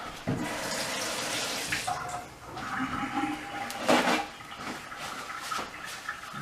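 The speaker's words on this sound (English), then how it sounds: "I'm going to wash my hands real quick." Hands washed under a running kitchen tap while cooking steak and eggs, a steady close rush of water with splashing changes as the hands move through the stream.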